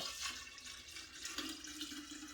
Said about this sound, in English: And just pour the tea into the jar.